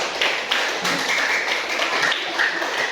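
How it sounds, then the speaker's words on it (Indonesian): A small classroom group applauds another group after their presentation, a light, quick patter of clapping hands at modest volume with a faint ringing tone in the background. "Ya, berikan aplaus kepada kelompok visual"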